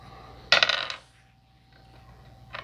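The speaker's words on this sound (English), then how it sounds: "Dropping my dice." Dice dropped onto a hard surface during a tabletop reading, a quick burst of clattering rattles that settles within half a second, then a brief faint click later, otherwise quiet.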